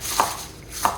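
A knife chops through fresh washed spinach on a board for zelnik filling, two distinct close chops about half a second apart with quiet pauses between.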